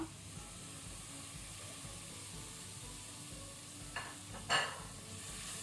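Tomatoes frying in mutton green masala over a medium flame, a soft steady sizzle with occasional stirring scrapes and a brief louder clatter near the end, no voices.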